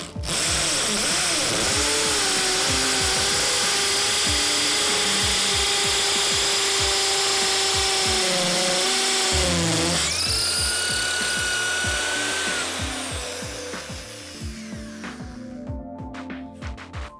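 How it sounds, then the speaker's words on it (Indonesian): An impact drill with an 8 mm masonry bit whines at high speed as it bores into concrete, its pitch shifting under load before winding down near the end. "khusus untuk pengetesan bor, dan saya menggunakan ID 500 dan mata bor 8 mili."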